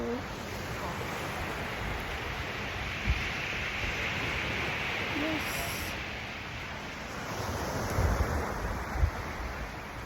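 Sea waves washing in at a beach, a continuous broad roar of surf mixed with gusty wind buffeting the microphone, with a brief voice heard once.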